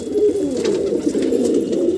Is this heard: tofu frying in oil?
no